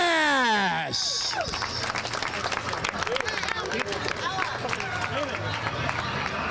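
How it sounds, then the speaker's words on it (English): Crowd applause for a young mini champion at the Monster Energy King of the Elements Spring Nationals, a steady wash of clapping and cheering that follows a brief spoken announcement. "Give a big round of applause, your mini champion, Reed"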